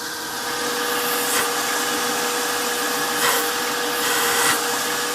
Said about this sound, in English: fit it back in the machine, do a final dress on the grinding wheel, and then we finish the actual cam off with a nice surface finish